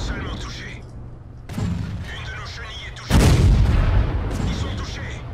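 A tank gun fires premium ammunition in World of Tanks, producing heavy booming shots, with the last one loudest, over constant engine and battle noise. Someone talks throughout.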